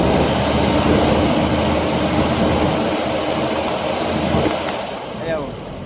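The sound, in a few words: Mitsubishi Adventure 4G62 engine revving, faulty MAF sensor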